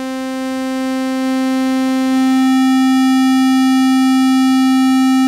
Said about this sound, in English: So this is just a simple sawtooth, and if I turn up the diode distortion,